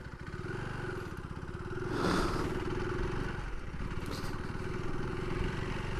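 KTM 390 ADV R motorcycle riding over an off-road patch, its engine droning steadily and swelling briefly as it revs, with gravelly clatter and scraping beneath.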